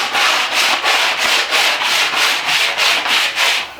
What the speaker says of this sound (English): as I'm sanding this, it's starting to take off that